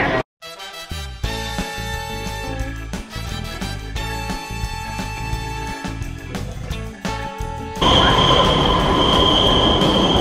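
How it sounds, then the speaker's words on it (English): Brussels metro train running along the rails, with rhythmic rumbling, clanks and tonal wheel squeals that rise into a loud, sustained screech near the end; no voices. "we're on the metro until the last stop"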